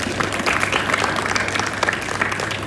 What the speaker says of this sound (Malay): Tepuk tangan kepada pengurusi surau ni